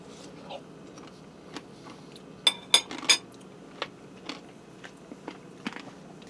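Close, quiet bites of a mashed potato casserole with bacon, chives, sour cream and cheese: soft chewing and a few sharp clinks of a utensil against the dish, clustered in the middle, then scattered smaller ticks.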